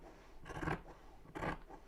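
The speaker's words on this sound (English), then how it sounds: "The crunching of scissors through layers of fabric takes me back to being a child." Scissors crunch through thick layers of fabric in two separate cutting strokes, close up and distinct, with a brief pause between them.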